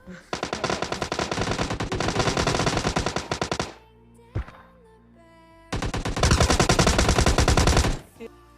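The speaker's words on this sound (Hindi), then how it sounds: "और हमको सामने फायरिंग की आवाज आती है तो हम रश करने के लिए चल देते हैं" Automatic gunfire in the mobile video game PUBG Mobile Lite: two long, loud, close bursts of rapid shots separated by a few seconds of near quiet with a single faint shot.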